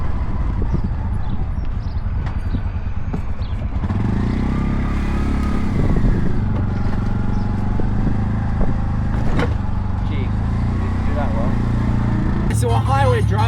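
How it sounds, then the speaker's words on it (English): A tuk-tuk cruises along the main highway between Colonia and Montevideo at about 30 km/h toward a roundabout, its small engine droning steadily with road rumble and rattling throughout, while people talk over it. "So we're highway driving and hitting a roundabout just now."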